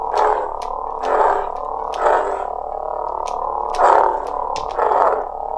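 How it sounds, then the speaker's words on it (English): Swing effects from a KR Sabers LE No. 6 custom FX lightsaber: a low steady hum swells into five or six whooshing surges at roughly one-second intervals, close and clear with no talk. "With your auxiliary effects that makes the swing sounds"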